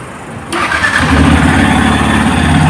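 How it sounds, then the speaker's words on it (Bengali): A 2024 Yamaha FZS V3 motorcycle engine cranks and fires after a quiet half second, then settles into a steady, close, loud idle with no talking. "লাগে এটা স্টার্ট হয়েছে"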